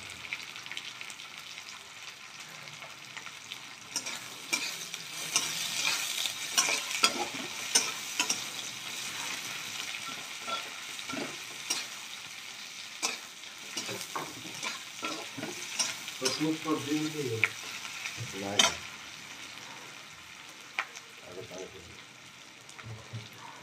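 Onions fry in a pan with cinnamon, sizzling steadily while a spoon stirs and scrapes them in irregular clattering bursts, close and moderately loud, with occasional talking over the cooking.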